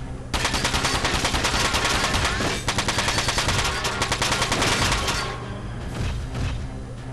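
Rapid gunfire from a double shot attack in Front Mission 4, a dense loud stream of mechanical shots lasting several seconds with a brief pause midway, then a fading tail.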